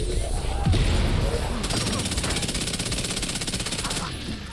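Rapid automatic gunfire from a weapon in The Division 2, a dense, loud stream of shots that rattles on for several seconds.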